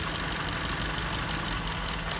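A car engine, a Nissan Tiida or Kia Sportage with a misfire, idles roughly with one cylinder disabled, a loud steady uneven rumble with no talk.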